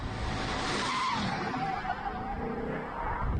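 A Ford GT40 race car at a hill climb event launching hard from the start line, a loud tire squeal and skidding screech layered over the revving engine, close by and sustained.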